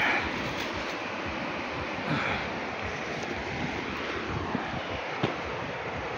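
Steady surf and wind at Nakpan Beach, a broad continuous roar that fills the whole stretch, with gusts buffeting the microphone and a few faint knocks.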